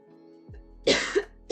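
A single short, throaty cough close to the mic, with a second brief burst following, in an otherwise quiet room.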